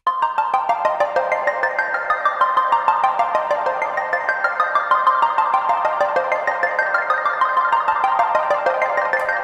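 A Digitone synthesizer plays a fast, steady arpeggio, bright notes cascading up and down in an even rhythmic pattern, clear and continuous without any voices.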